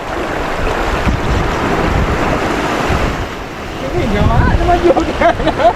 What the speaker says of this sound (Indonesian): Mulai berangin teman-teman.